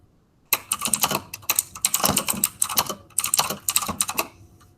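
Typing on a computer keyboard while building a Google Slides presentation: rapid, close, crisp key clicks in irregular bursts with brief pauses, no talking over them.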